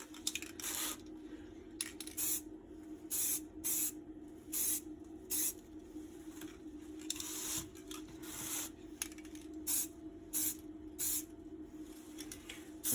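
Short bursts of spray paint hiss onto a MK3 Raleigh Chopper bike frame as a light dusting coat, a dozen or so quick puffs of varying length separated by brief pauses over a faint steady hum.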